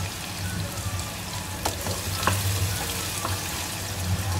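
Shrimp paste frying in a pan for fish sambal, crisping up: a steady, close sizzling hiss throughout, with a few faint scrapes and ticks from stirring.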